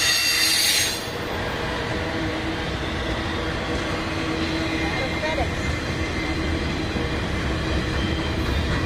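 A freight train led by a Conrail heritage ES44AC locomotive rolls past close by, a steady heavy rumble of wheels on rail with squealing and a brief high hiss at the start, continuing evenly throughout.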